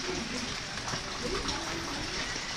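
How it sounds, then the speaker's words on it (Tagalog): Heavy rain falling, a dense steady hiss of downpour close by that fills the whole clip with no break. "Malakas pa yung ulan."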